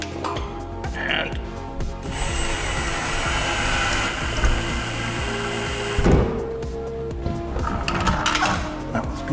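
A power drill whirs and bites as it drives a screw into a wall mount, with a sustained high motor whine and clattering bursts, loud and close throughout.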